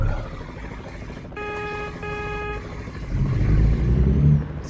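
A truck horn sounds in American Truck Simulator, two sustained honks of roughly half a second each, the second coming right after the first, over a steady engine and road drone that grows louder toward the end.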